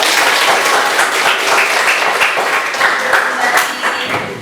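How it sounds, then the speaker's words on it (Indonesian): Junior high school students at SMP Negeri 1 Gondang clap together in a classroom, a dense, lively round of applause that holds strong for several seconds before tapering slightly. "Biasa tepuk tangan untuk kita."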